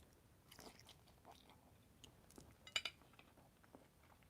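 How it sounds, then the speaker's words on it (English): Close-miked chewing and biting of food, soft crunchy mouth sounds scattered irregularly, with a couple of sharper clinks of cutlery or dishes near the end, otherwise quiet. "am I chewing really loud?"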